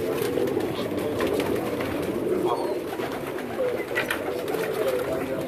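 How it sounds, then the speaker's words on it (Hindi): Teddy pigeons on a Karachi rooftop coo softly and repeatedly, close by, over a continuous murmur of birds. "ये जी टैडी कबूतर है जी"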